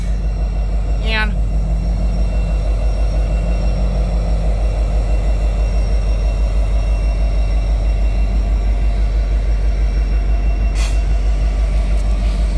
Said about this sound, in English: didn't expect to see a train after all today during Thanksgiving night.